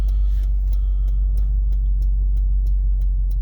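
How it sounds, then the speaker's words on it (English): A 2012 Subaru Forester XT Touring turbo engine with an aftermarket intake drones inside the cabin while driving, a loud steady low rumble with faint ticking on top. "I love the sound of the blow off in the intake."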